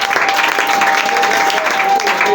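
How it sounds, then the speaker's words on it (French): Church congregation applauding, a loud, dense and continuous burst of clapping from a large crowd, with a few voices mixed in. "Alors est-ce qu'on peut acclamer pour nos frères qui ont vu?"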